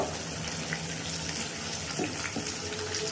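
Onion and green chili frying in hot oil in a wok give off a steady, loud, broadband hiss and crackle that runs unbroken throughout, with no talking.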